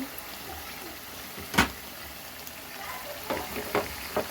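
Pepper chicken masala with fresh coriander leaves being stirred in a pan, a soft steady sizzle of frying broken by a few scraping clicks of the spoon against the pan.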